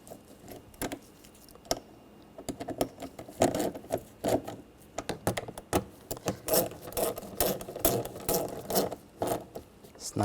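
A power driver snugs down screws on a Ford front door panel during a window motor and regulator replacement, giving short buzzing whirs in quick repeated bursts, near and moderately loud.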